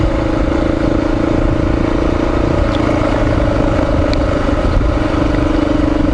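Honda XR dirt bike engine labors loudly and steadily while climbing over big boulders on a rocky trail, with rattling clatter from the bike under the constant close-up roar.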